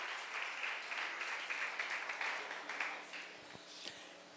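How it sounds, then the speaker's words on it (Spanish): Church congregation clapping together in a steady, moderately distant round of applause that thins out near the end, heard without talk over it. "Demos un aplauso fuerte al Señor por la vida de todas esas personas."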